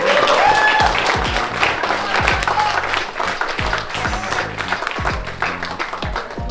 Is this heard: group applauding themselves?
yes